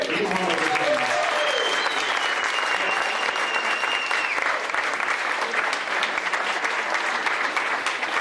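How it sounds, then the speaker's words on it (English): Cabaret audience at a club in San Diego applauding steadily, a dense, even roar of clapping with a few whistles and cheers mixed in near the start. "Give them a round of applause."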